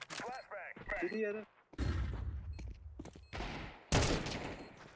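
Gunfire in a Counter-Strike match comes as sharp bursts and rapid volleys mixed with thuds, while players talk excitedly over the shots.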